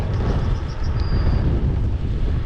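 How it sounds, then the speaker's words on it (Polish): Gusty crosswind buffets the microphone while cycling a long road route, a loud, continuous low roar of rushing air with no break and no talk. "Teraz akurat boczny wiatr jest."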